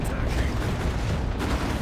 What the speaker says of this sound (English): taking tons of damage from that autocannon